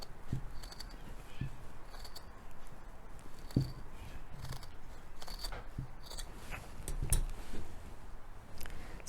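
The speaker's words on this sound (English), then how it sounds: "cut out the basic shape" Scissors snip through folded paper to cut out a bunting shape, giving a faint, irregular series of short crisp cuts spread across the stretch with quiet pauses between them.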